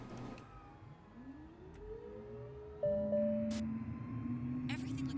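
Turbine engine spooling up in Microsoft Flight Simulator 2020, a steady rising whine that steps up in pitch and loudness and settles into a sustained hum, with brief clicks and a voice talking over it.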